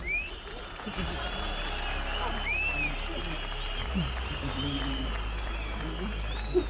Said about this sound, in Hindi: मुख्यमंत्री जी मंच पे आ रहे हैं और तालियों सीटियों से इनका स्वागत करें